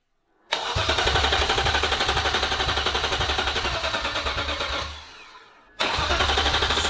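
Low-budget BMW drift car engine cranking on a first start attempt: a loud, steady rapid starter churn for several seconds, a brief pause, then cranking resumes, with no voices.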